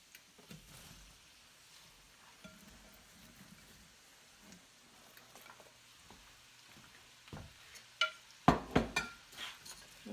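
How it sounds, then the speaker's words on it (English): Soft, steady sizzling of about six pounds of onions sautéing across two pans runs throughout with faint clinks, then louder scraping and stirring bursts near the end. "as I put them in the fire and they start sauteing"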